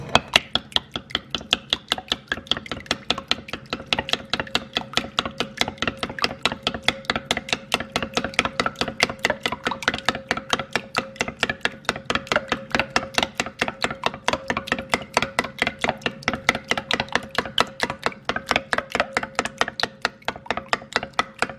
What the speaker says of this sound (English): So we're beating these eggs real good.